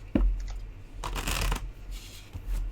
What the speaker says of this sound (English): I'm sitting here doing a gentle shuffle